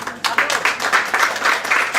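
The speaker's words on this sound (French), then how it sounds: "on peut vous applaudir très fort" Loud applause at a gastronomy award ceremony in a Paris restaurant, with a crowd clapping in surging, slightly pulsing waves after a brief quieter start.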